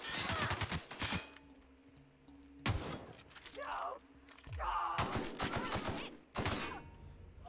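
Rapid bursts of video-game gunfire from The Outer Worlds come in several loud clusters of sharp shots, separated by brief lulls that carry low game ambience and occasional thuds.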